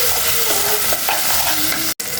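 Steady loud sizzling of eggplant frying in oil, with a spoon stirring through the pan, continuous with no voices.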